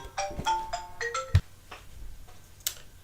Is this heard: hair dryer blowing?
no